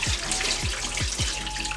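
Water is poured off a pot of boiled eggs into a sink, a steady close splashing stream with repeated gurgling glugs as it drains.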